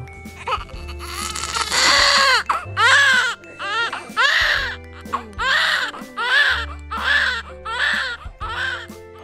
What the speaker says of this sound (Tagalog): sabay namin narinig yung first cry ng baby namin